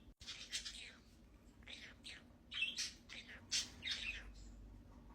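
Several chatty budgies squawk and chirp in short, scattered bursts, close and fairly quiet, with small gaps between calls.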